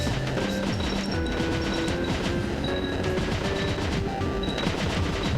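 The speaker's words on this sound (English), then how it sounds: "he wants to be holding jump with machine gun out" Rapid machine gun fire in the retro platformer Cave Story, a continuous loud stream of chiptune-style shots with game effects and background music, fired steadily throughout.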